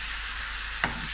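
Sweet potato leaves stir-fried in a pan give off a soft, steady sizzle, faint and close, with one brief scrape of the spatula near the end.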